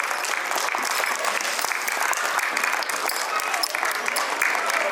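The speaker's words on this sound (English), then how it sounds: "A huge round of applause." Steady, dense audience applause at a school annual day celebration honoring a teacher award winner, continuous and fairly close throughout.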